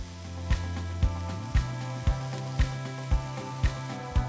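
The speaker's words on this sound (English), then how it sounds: "and stir fry all of the ingredients together" Morning glory stir-fried with oyster sauce and sugar in a hot pan, a constant sizzle broken by regular sharp scraping strokes about twice a second, close and clear, with no talking.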